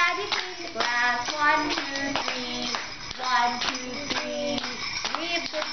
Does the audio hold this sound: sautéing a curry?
no